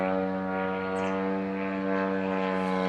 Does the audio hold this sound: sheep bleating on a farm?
no